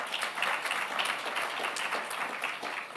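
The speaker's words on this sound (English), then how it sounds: "Let's clap for our teams." An audience at a Safaricom full-year results event applauds for the teams, a dense and even patter of clapping heard from a moderate distance.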